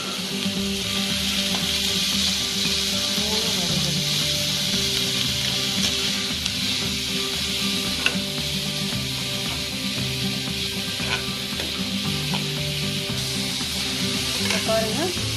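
Onions, carrot, beans and capsicum sauté in a hot pan, giving a loud, steady sizzle with scraping stirs throughout and no talk.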